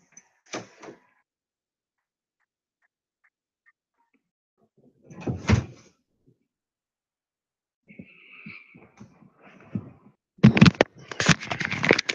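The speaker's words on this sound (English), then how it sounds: "let me just lock my room door" A room door is shut and locked indoors, heard as a few separate knocks and clacks followed by a louder burst of rattling handling noise near the end, with quiet gaps in between.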